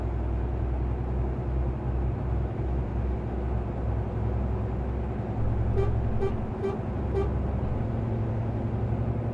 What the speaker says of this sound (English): I want to hold the horn down, but that's what I've got for a horn